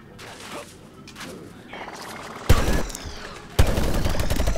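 Gunfire in Plants vs Zombies: Garden Warfare 2: two sharp loud blasts followed by dense rapid shooting over busy game noise, with a voice talking quietly underneath.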